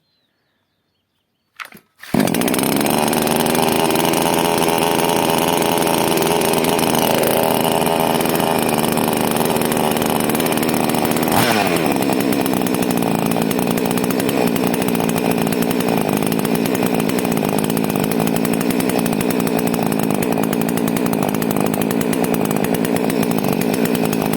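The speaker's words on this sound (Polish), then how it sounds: "Jak widzicie, maszyna pracuje, fajnie wypala olej." A Greencut chainsaw with a new clutch bearing sputters briefly, then starts on its first run and holds a loud, steady engine drone for over twenty seconds, with one slight rev partway through.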